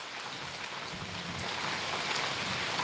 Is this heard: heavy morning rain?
yes